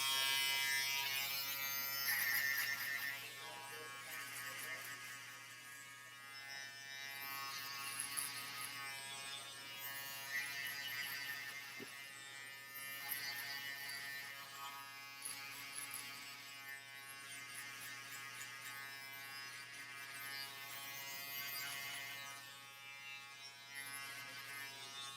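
An electric shaver buzzes continuously during a high taper haircut on kinky hair, a close, steady electric whine that rises and dips slightly as it moves over the head, with no talking.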